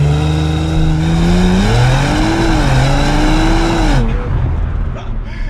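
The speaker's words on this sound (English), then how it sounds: "the noise coming from that engine is ridiculous" A 2020 Audi RS4 Avant with a 2.9-litre V6 accelerates hard, its loud, close engine note rising and shifting through gears in a sustained roar before easing off near the end.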